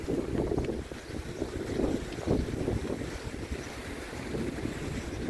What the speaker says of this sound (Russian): снова, снова, снова начался ветер